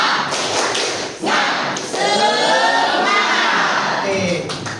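A group of adults in a teacher-training session does a rhythmic spirit clap, loud patterned taps and claps in quick bursts mixed with voices shouting along.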